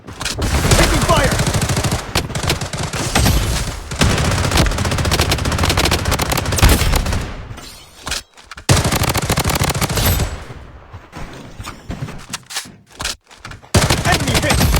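Dense, loud bursts of automatic machine gun fire and rapid gunshots from the BloodStrike shooter game, a blue-skinned MP5 among the weapons, nearly continuous with a couple of brief gaps and a closing burst.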